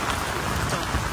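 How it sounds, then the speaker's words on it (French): Heavy rain pours down hard and close, giving a dense, constant hiss of drops on surfaces during a race with no pause. "là il est en train de pleuvoir un truc de malade"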